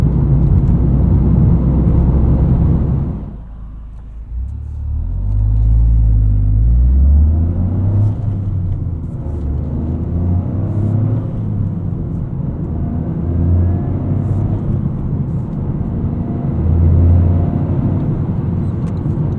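A 2023 Toyota GR Corolla with all-wheel drive drives hard, its engine a loud, deep rumble that drops suddenly, then surges and pulses steadily through gear changes.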